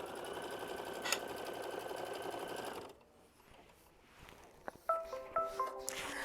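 A sewing machine runs a steady, close whirring stitch for about three seconds, tacking down a fabric piece on a flower bouquet quilt block, then falls quiet before a few short clicks and hums.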